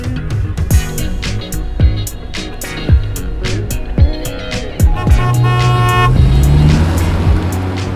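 A Mercedes-Benz E-Class car horn honks in a run of short toots, then sounds a longer, steadier blare, loud and close over a background of music and street noise.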